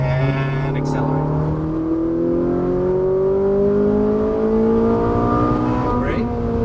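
Ferrari 458 Italia engine pulling hard on a racetrack, its rising whine climbing steadily in pitch for several seconds, loud and close, with an instructor speaking over the roar.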